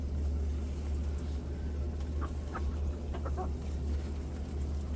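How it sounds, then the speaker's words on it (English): Chickens in a backyard coop cluck in short scattered bursts over a steady low hum, the birds fairly close and moderately loud throughout. "These happy chickens."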